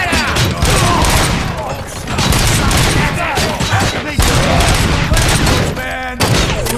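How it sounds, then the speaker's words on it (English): Sustained gunfire from a RoboCop: Rogue City shootout, with rapid bursts and heavy shots overlapping loudly throughout, shouted voices mixed in. "Am I hearing gunshots?"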